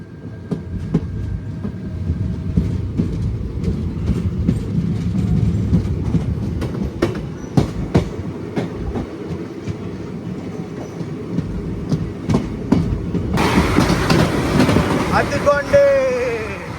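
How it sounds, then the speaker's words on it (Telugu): A Chennai–Narsapur Vande Bharat Express crosses close by, a loud, steady rush of wheels and clattering over rail joints, with a sharper hiss and squeal rising near the end. "మనకి ఇక్కడ క్రాస్ ఓవర్ అయితే అవుతుంది చెన్నై వందే భారత్ ఎక్స్ప్రెస్తో. చెన్నై నర్సాపురం వందే భారత్ ఎక్స్ప్రెస్."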